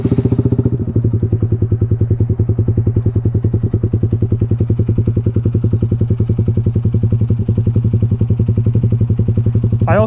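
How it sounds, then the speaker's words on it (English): A 2019 Honda MSX125 motorcycle engine idles steadily through its aftermarket exhaust with a deep, rapid exhaust pulse, loud and close, continuous throughout without any talk. "show you guys what the crap this exhaust sounds like"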